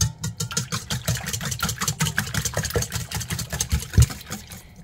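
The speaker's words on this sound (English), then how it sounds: "now I've got 4 eggs that we're gonna whisk up" An electric mixer whisks four eggs in a bowl as the first step of a carrot muffin batter, giving a steady close motor whir with fast, rhythmic beating pulses throughout and no talking.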